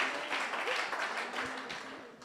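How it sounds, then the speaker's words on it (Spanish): Congregation applauding during an evening worship and testimony service, a steady wash of clapping across a hall that fades gently toward the end, with some faint voices mixed in. "nós estamos dando a Deus aplauso"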